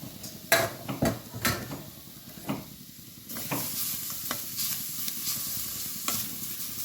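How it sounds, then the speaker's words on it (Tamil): Coconut roasting in a dry pan, with a spoon scraping and stirring in irregular strokes and a steady sizzle building partway through. "தேங்காவை நல்லா வறுத்து எடுக்கணும்."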